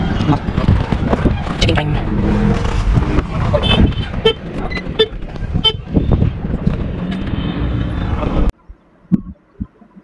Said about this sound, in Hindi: ये आज मेरे हॉर्न में कुछ प्रॉब्लम हो गया, लग रहा है कि बासी बज रहा है